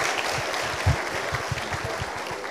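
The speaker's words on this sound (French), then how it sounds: "un peu applaudissements s'il vous plaît" Applause at a university bachelor's degree graduation ceremony, a brief burst of clapping from the audience, moderately loud with a sharper cluster of claps near the start and a steady patter continuing.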